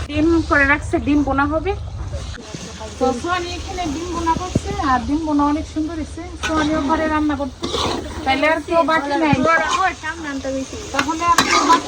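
Curry of tomato, potato and spices cooks in a pan, sizzling and being stirred, up close under steady conversation and loud nearby voices.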